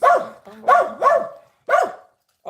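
A dog barks close by in four loud, separate barks spaced about half a second apart, with brief pauses and no talking over them.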